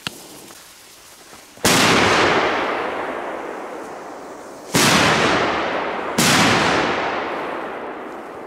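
Three sharp, loud gold consumer fireworks bangs, each trailing off into a long rumbling echo, separated by a few seconds, nearby and without voices.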